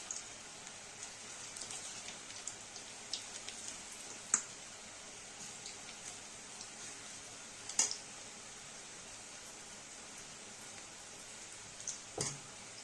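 Spring onion fritters (bhaji) deep-frying in oil over a medium flame, a soft continuous crackling sizzle with a few sharper pops and clinks, quiet and without talk.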